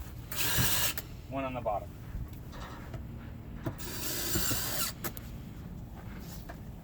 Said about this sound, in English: we can go through and finish putting screws in all of it